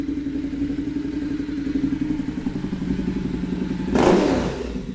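A Ducati Diavel motorcycle engine running loud and close, a steady rumbling idle that rises to a sharper rev burst near the end, no talking.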